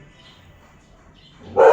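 A dog barking at a passerby, one sharp, fairly close bark that bursts out at the end after a stretch of quiet room tone.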